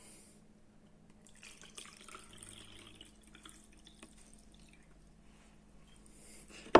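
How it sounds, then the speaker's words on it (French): Water pouring into crêpe batter of eggs, milk and oil in a bowl, a quiet trickling splash at close range with no talking. "Après les œufs, il faut ajouter l'eau, le lait et l'huile"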